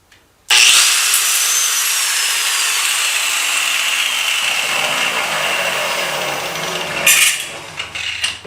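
A power cutting tool bites into the metal of a 1959 BSA C15T motorcycle after its silencer has been removed, a loud close continuous shrieking grind lasting several seconds, then a brief spike and tapering off as the cut ends.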